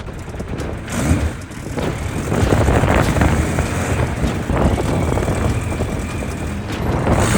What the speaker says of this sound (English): This is the first time I'm pulling away in a Legend.